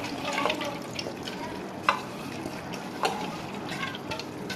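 Spices and chana dal stir-fried in a pan, a soft sizzle with scraping stirs and two sharper knocks of the spoon against the pan, close and moderately quiet.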